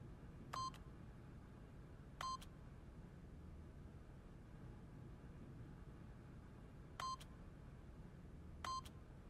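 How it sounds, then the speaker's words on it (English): Four short electronic keypad tones sound as a PIN code is entered on a keypad in The Stanley Parable: Ultra Deluxe, spaced irregularly and each a crisp, clear beep over a faint, quiet background hiss. "the PIN number for the keypad was 2845"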